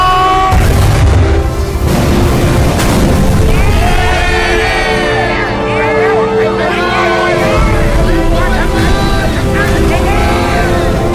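Heavy booms from incoming fire in a war film about a warship, loud blasts rolling over a dense battle din, with voices shouting through the chaos.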